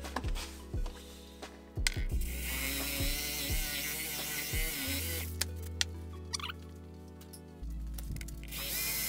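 A power drill whines steadily for several seconds while boring out a stuck spark plug, its pitch shifting as it bites, with brief pauses and clicks between bursts of boring.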